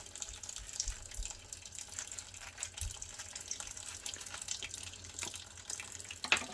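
Fresh jalapeños being rinsed under a running kitchen tap, a steady soft stream of water splashing in a sink with small irregular spatters, fairly quiet and close, no talking.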